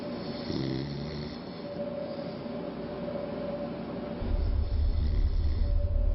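A sleeping person snores in slow, low rasping breaths, heard as steady, close rumbling that grows louder and deeper toward the end.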